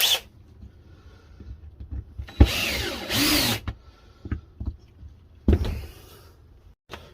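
Cordless power drill driving a screwdriver bit into wood while building a seed tray tamper, two short close whirring bursts separated by quiet handling clicks and knocks.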